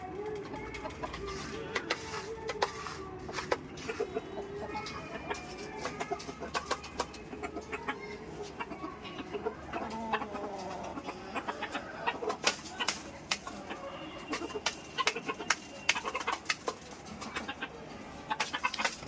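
Several chickens cluck and murmur close by in an irregular stream, with scattered sharp knocks and rustles and faint voices in the background.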